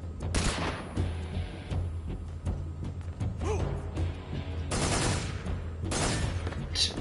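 Gunfire in Metal Gear Solid 3: Snake Eater: bursts of rapid shots and rattling volleys in quick succession, moderately distant, with fainter combat noise between bursts.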